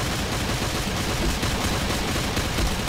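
Sustained automatic fire from an MK3 machine gun in a mobile shooting game, a dense, continuous loud rattle of rapid shots filling the whole stretch with no talk over it.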